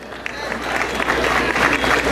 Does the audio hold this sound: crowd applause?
yes